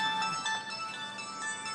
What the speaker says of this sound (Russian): Телефон. Телефон звонит.